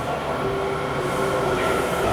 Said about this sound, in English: Riding on the Metro.